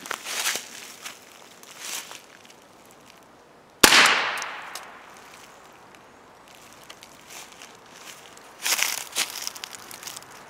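One sharp, loud crack from a Ruger 10/22 firing a hollow point round at safety glasses, with a crackling decay, followed by scattered rustling and handling noise.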